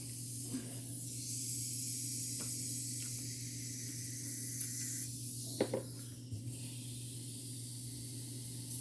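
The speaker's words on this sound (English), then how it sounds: "we'll empty that airbrush out" An airbrush is emptied by spraying out its leftover paint, giving a steady, even hiss that runs throughout, with a couple of brief louder bursts near the middle.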